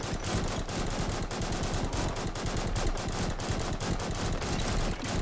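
Continuous rapid gunfire from the video game Survive To Giant, dense automatic bursts running the whole time at steady loudness with no pause.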